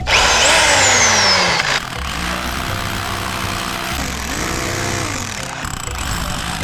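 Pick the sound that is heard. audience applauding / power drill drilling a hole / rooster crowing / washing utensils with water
power drill drilling a hole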